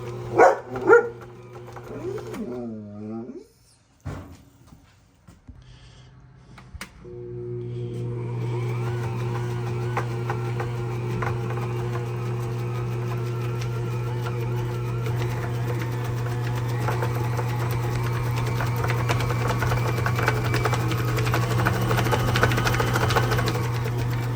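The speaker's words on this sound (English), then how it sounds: "So now we're going to start mixing, folks. We'll turn it on." An Ankarsrum stand mixer mixing cookie dough, a steady droning motor hum that starts after a few seconds and runs loud and continuous, with someone talking briefly at first.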